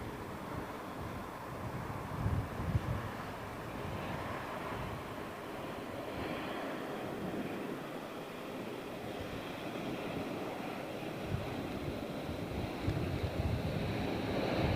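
An aircraft taking off at London Heathrow Airport, heard as a steady, broad rushing roar mixed with wind buffeting that holds for the whole stretch without speech.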